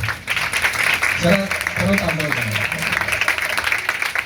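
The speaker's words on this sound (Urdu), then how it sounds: "یسوع کے لیے زوردار تالی بجائیں گے." Applause from a congregation at a Palm Sunday church service rises loudly and holds, mixed with voices and chatter throughout.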